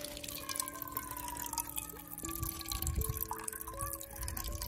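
Water trickles and drips into a container at a campsite, a continuous close splashing under faint background tones.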